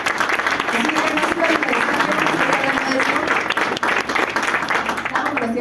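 An audience at a cultural diversity event gives loud sustained applause, dense clapping filling the room for several seconds, with voices mixed in under the clapping.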